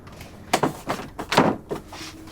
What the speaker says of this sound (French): Elle a verrouillé sa porte.